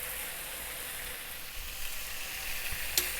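Lemon garlic chicken pieces frying in a pan give off a steady, close sizzle with a constant hiss, plus a soft bump near the end as the pieces are turned.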